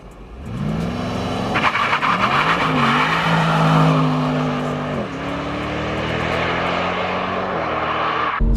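Tuned limited-edition BMW with 770 HP and a manual gearbox doing a launch start with traction control off, heard from outside: a loud, rising engine roar with tire squeal that climbs through gears and stays strong.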